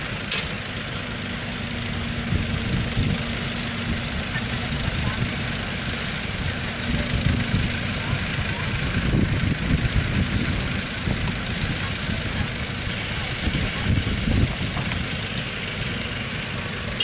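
A dump truck loaded with soil idles at an earthworks site beside an excavator, giving a steady, loud, low diesel rumble that runs unbroken for the whole stretch with slight swells in intensity.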